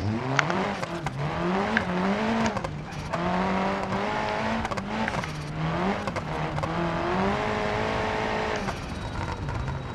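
A rally car in the BeamNG.drive game revs and shifts hard over bumps and jumps, its engine note rising and falling repeatedly with brief handbrake slides and tire noise, loud and close throughout.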